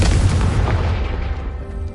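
In the Hogwarts Legacy video game, the Confringo spell explodes with a heavy, deep boom that rumbles loudly and then slowly decays over about two seconds.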